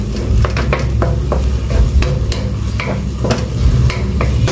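Alamang shrimp paste sizzles steadily in a pan on the stove while a utensil scrapes and stirs through it in quick, irregular strokes, close and fairly loud.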